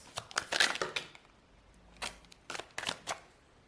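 Tarot cards being shuffled make quiet, irregular bursts of papery riffling and soft slaps close by, in short clusters separated by pauses.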